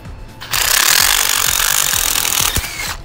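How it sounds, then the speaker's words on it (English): Small impact wrench with a 17 mm socket working on a car coil pack, a loud continuous hammering buzz for about two seconds after a short quiet start, close up. "17 millimeter socket and a small impact."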